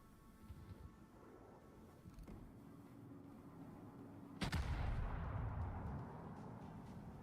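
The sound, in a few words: warship Britannia firing its guns in video game World of Warships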